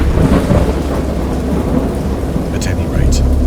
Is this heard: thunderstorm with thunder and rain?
yes